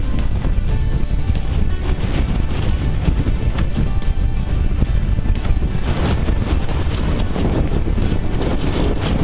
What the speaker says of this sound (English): wind is just gusting up to 27 knots